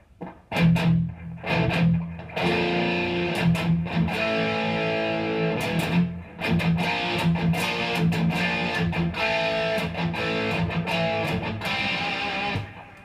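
An electric guitar played through a distortion effect, sounding loud and close with sustained, gritty chords and riffs broken by short muted pauses.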